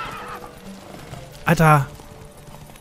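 Spooked horses in The Witcher 3: a sudden loud neigh and whinny bursts out midway over faint background clatter, with someone shouting briefly at the same moment.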